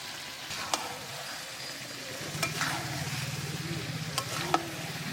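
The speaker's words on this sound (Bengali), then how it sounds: "এবার আমি ভেজে রাখা এঁচড়টা দিয়ে দেব।" Fried young jackfruit pieces are added to a simmering chicken curry and stirred in, giving a steady low bubbling sizzle with a few sharp clinks of the spoon against the pan.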